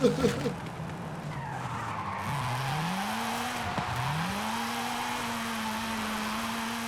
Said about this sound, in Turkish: Yanlış yerde direksiyon tuttuğum için fena bir kaza oldu.